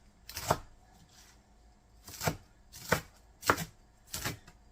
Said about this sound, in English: I want to chop it up even smaller.